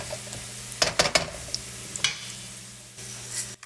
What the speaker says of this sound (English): You're going to stir fry this until it's golden brown.